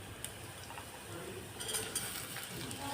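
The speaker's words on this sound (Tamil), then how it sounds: "இப்போ இதையும் கொஞ்சம் வதக்கி எடுத்துக்கலாம்." Vegetables sautéing in a pan for a white kurma give off a faint, steady sizzle, with a few soft stirring clinks, quiet and brief.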